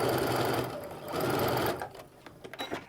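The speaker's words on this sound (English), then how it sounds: "your sewing machine needle set in the 1/4 inch position, you should be able to start here, stitch all the way across" A sewing machine stitches quilt fabric with the needle in the quarter-inch position, running in a steady loud whir with a brief lull, then stopping and giving way to a few soft handling clicks.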